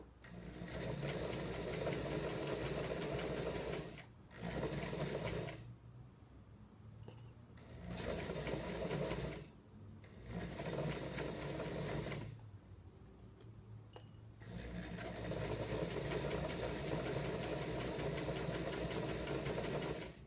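A sewing machine stitches a patchwork seam at its slower speed setting, a steady mechanical whirr running in long stretches with brief pauses and small clicks between, fairly close with no talking.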